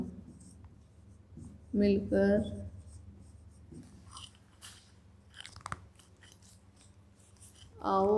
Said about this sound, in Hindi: अब हम इसके लिए जन जागृत करते हुए नारा लिखेंगे।